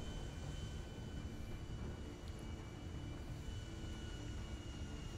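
Airplane flying in GTA 5 during a meteor shower, a faint, steady broadband engine drone and rushing wind that carries on evenly with no voices.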